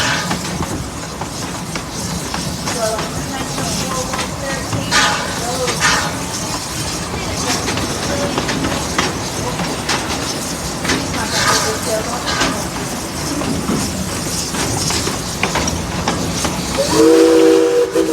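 A working steam train on the Six Flags St. Louis park railroad climbs a hill, its steady chuffing and hiss running throughout while a steam whistle sounds, loud and close.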